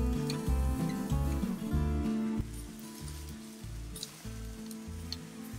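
Chuck eye steaks sizzling on an outdoor grill after being flipped, a soft steady sizzle under a looping musical backing track, moderately quiet.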